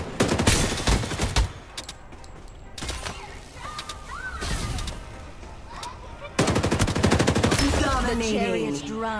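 Heavy automatic gunfire in a shooter video game crackles in dense rapid bursts, close and loud, with short pauses between volleys and synthesized game voice lines and effects mixed in.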